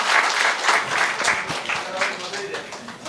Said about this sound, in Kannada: ಹಾಗಾಗಿ ವಿಶೇಷವಾದ ಚಪ್ಪಾಳೆ ಹೊಡಿರಿ, ಅವರಿಗೆ ಅಭಿನಂದನೆ ಮಾಡೋಣ.